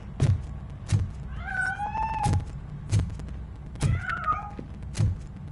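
Cat meowing in the video game Robocop Rogue City, two drawn-out meows heard alone between regular dull thumps, fairly close and clear.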